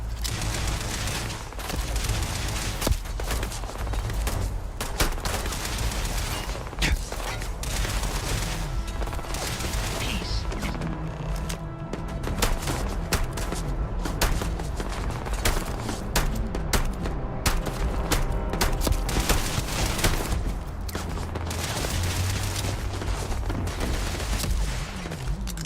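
Rapid bursts of automatic gunfire and explosions from the Dune Awakening video game crackle continuously, dense and loud, with brief pauses between volleys.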